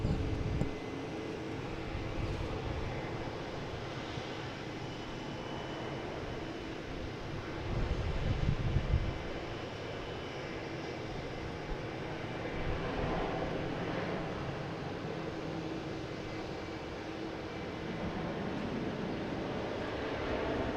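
A Delta Airbus A330-900 bound for Paris spools up its jet engines in a steady, broad roar heard from some distance, with wind buffeting the microphone and no talking.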